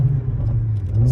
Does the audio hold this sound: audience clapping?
no